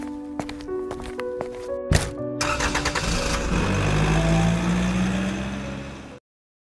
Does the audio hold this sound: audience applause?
no